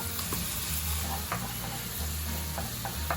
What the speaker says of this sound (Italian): Il nostro trito di olive, il nostro trito di capperi, gli diamo una bella girata, aggiungiamo un po' di olio